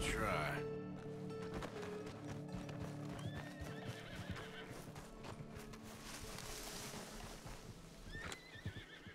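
A horse in the Red Dead Redemption 2 video game whinnies while its hooves clip-clop steadily nearby, amid game music and ambient sound, with talk heard over it.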